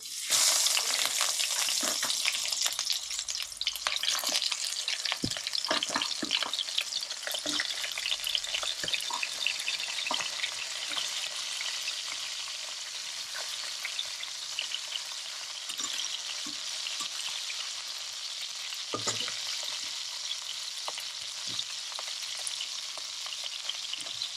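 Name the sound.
crabs frying in hot mustard oil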